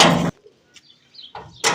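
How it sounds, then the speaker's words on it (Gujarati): Pet pigeons at home give a few soft, short coos and chirps between quiet pauses, with louder bursts of household noise at the start and end. "तो आ છે હવે અમારા કબૂતર"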